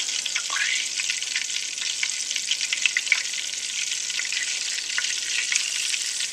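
Morel mushrooms frying in hot oil, a steady dense sizzle with scattered crackles and pops running throughout, close and fairly loud with no talking.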